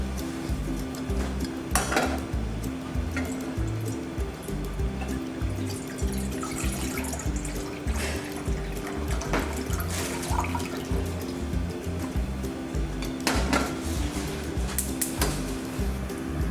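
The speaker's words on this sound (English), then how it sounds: "Move the stock in a pan and let it heat up and boil." Kelp soup stock pours into a pan in a steady, close watery rush, with occasional clinks of cookware over a constant low hum.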